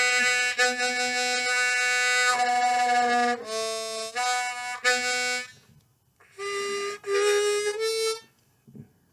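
Harmonica notes played tongue-blocked with tense technique in several sustained, buzzy blasts with short breaks between them, close and fairly strong, ending in quiet.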